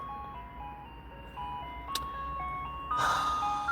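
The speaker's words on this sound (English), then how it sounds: "these fucking ice cream trucks. Hold on. They be so fucking loud." A loud ice cream truck passes close by on the street, its chiming jingle playing a steady repeating tune over constant engine and traffic noise, growing louder toward the end.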